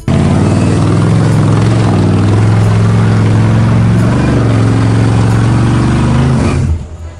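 A modified Toyota off-roader with a swapped-in LQ4 V8 petrol engine drones loud and close, a deep steady rumble with slight shifts in pitch, cutting off near the end.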